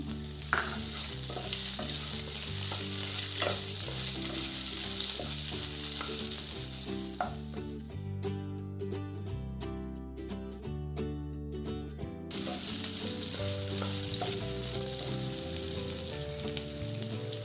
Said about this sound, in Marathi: कांदा लाल होईपर्यंत परतून घेऊ।